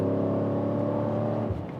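Mercedes E55 AMG engine with 188,000 miles revving close up, a loud steady harmonic growl that eases off toward the end, no talk.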